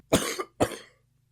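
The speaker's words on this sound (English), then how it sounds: "I have been coughing." Two sharp, close coughs in quick succession, the second slightly shorter, followed by quiet.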